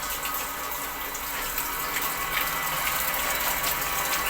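Water gushes steadily from a Mitsushi 0.5 hp electric water pump, a close, continuous splashing rush with slight fluctuations and no talk.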